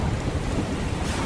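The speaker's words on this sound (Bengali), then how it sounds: "তারপরই শুরু হলো তুমুল ঝড় বৃষ্টি।" Heavy rain pours and thunder rumbles in a violent nor'wester storm, a dense steady roar of downpour and wind throughout.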